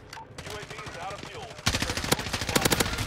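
Video game gunfire in quick, loud bursts of rapid shots, intensifying in the second half, with a player talking over the first part.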